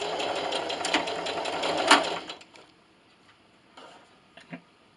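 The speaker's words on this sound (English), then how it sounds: "I'm using the same straight stitch and the same length. This time I'm going to backstitch." A home sewing machine runs a straight stitch with backstitching, making a steady close mechanical whir for about two seconds, then stopping. A few scattered light clicks and taps follow in near quiet.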